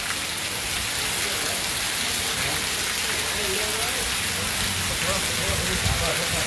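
Heavy wind-driven rain pours down in a dense, continuous hiss, loud and close, with faint voices underneath.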